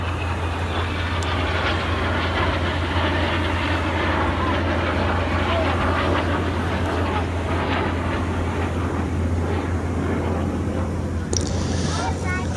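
An aerobatic display jet passes at the Canadian International Air Show, a continuous loud roar with a strong low rumble throughout, while an announcer speaks over it.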